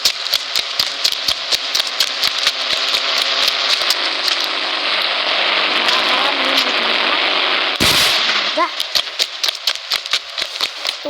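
Firecracker bomb blasts go off in an Indian bike simulation video game: a rapid string of sharp cracks, then one louder bang, then more scattered pops.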